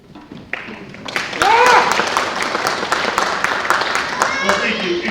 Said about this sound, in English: It's very nice to get applause when I haven't even done anything yet